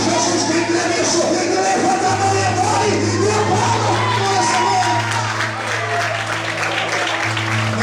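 A church congregation applauds loudly and steadily during a sermon, thick sustained clapping with cheers and whoops over a low humming drone, the crowd sounding large and close.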